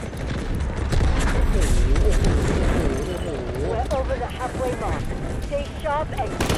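Grenade blast in the shooter game Delta Force, a dense loud rumble filling the clip with busy gunfire-like texture and scattered whistling tones, while someone talks over it.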